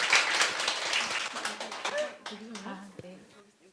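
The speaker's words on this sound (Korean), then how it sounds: "다시 한 번 더 박수 보내주십시오" A crowd at an education presentation event gives a round of applause for a nervous presenter, the dense clapping fading as voices begin to speak near the end.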